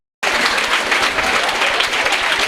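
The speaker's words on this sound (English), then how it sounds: "shall we give them a standing ovation? Please clap for the present, the alive" An audience at a school donation ceremony breaks into a standing ovation, dense sustained clapping from many hands starting abruptly and continuing steadily at moderate volume.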